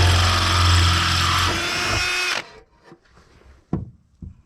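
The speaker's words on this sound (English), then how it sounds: "And now we'll drill some holes" Power drill boring holes through a 1998-era Golf 3 body panel for an upgraded intercooler mount on a 1.8T swap, one loud sustained run of about two seconds, then quieter shorter bursts and a brief sharp whir near the end.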